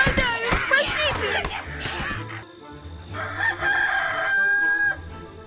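A rooster crows loudly and clearly at the dawn cock-crow in a Korean folk tale, its long call rising over a busy background of music and sound effects.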